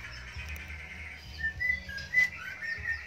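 Birds chirp and whistle at a bird breeding farm, a cluster of close, bright calls over a low steady background hum, with no talking.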